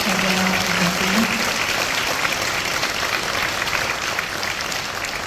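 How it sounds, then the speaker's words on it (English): Dense, steady applause fills a health forum hall for the team, loud and continuous without pause, with a brief tonal murmur near the start. "Once more round of applause for the love of the team."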